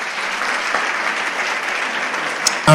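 A church congregation applauds together during a Sunday celebration service, a steady wash of many hands clapping at even loudness throughout, ending in a brief louder burst.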